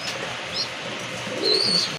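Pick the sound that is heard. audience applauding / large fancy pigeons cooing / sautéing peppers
large fancy pigeons cooing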